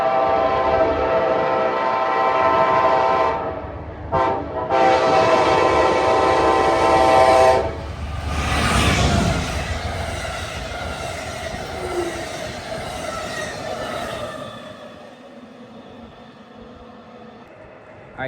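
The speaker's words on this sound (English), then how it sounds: "All right, here comes Amtrak 63, there go the gates." Amtrak 63 passenger train passing a crossing, with a loud sustained horn blast breaking off, then rolling wheel and car rumble with some squeal, fading away toward the end.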